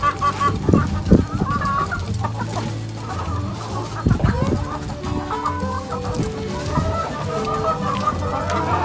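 Chickens cluck steadily at a farm feeding area, several birds calling over one another in a busy, close chorus that carries on without pause.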